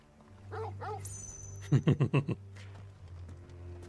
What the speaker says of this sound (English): that happy bark